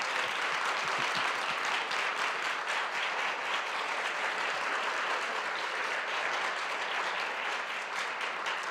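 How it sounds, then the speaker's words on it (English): Steady, dense audience applause at a chapel event, loud and continuous throughout, with many hands clapping at once and no talk over it. "Let's give Phil Vischer a round of applause and thank him for coming."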